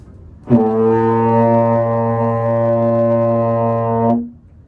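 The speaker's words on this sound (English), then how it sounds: "buzz into the mouthpiece" A single sustained brass-like first note buzzed through a trombone mouthpiece, steady and loud for about four seconds, then stopping cleanly, with no talking.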